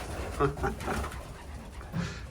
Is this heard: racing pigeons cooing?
yes